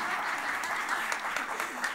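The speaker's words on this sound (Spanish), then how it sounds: "¿Y mi aplauso?" Steady applause from a choral gala audience, dense and even clapping filling the whole moment, moderately distant.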